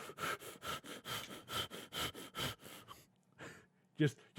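A man imitates heavy breathing with his voice, giving a run of about a dozen rhythmic, forceful breaths followed by a pause and a couple of final gasps.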